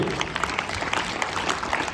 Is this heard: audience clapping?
yes